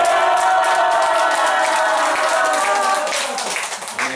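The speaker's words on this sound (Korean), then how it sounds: "막 박수 치면서 할렐루야 그래야 돼요" A church congregation claps and shouts hallelujah together, voices raised in a loud unison cry over rapid hand claps, trailing off toward the end.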